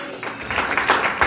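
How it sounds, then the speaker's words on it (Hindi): A church congregation claps together in a short, dense burst of applause at moderate distance, fairly soft and with no clear speech over it. "तालियां मारे कलीसिया बोले"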